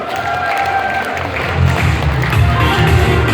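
Applause from a crowd, a steady wash of clapping that swells a little louder partway through, with faint room murmur underneath.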